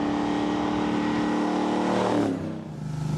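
A hot rod's engine roars steadily, loud and close, with a rough throbbing note that drops off abruptly near the end as the car moves away or eases off.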